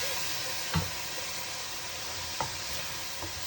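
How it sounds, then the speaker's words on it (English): Squid and kritharaki pasta hiss softly in the pot as wine is added and stirred to evaporate, with a steady sizzle and a few sharp spoon clicks against the pan. "we add the wine. And we stir until it evaporates completely."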